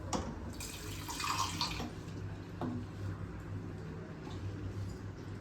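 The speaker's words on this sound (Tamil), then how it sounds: "கொஞ்சமாக தண்ணி சேர்த்துக்கலாம்." Water poured into a pot of South Indian mutton curry, a steady close stream of liquid running for several seconds with a few faint clinks, heard alone.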